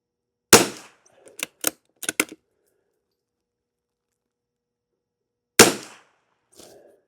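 CCI subsonic rounds are fired, likely from a rimfire rifle: a sharp crack, then a quick cluster of smaller impacts and clatters, a quiet pause, and another single shot followed by a faint after-sound.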